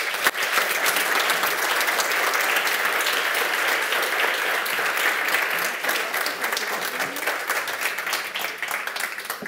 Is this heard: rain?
no